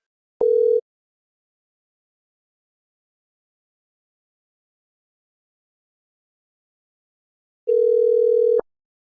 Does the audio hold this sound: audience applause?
no